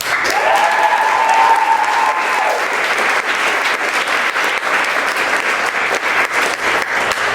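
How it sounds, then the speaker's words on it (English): A stand-up comedy audience at an Off Off Campus show applauds the performers in a loud, sustained burst of clapping that continues evenly to the end, with a faint tone ringing over the opening seconds. "can we get a big round of applause for all of our stand-up pre-flows?"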